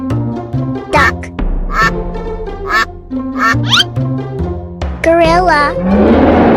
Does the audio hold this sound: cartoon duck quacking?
yes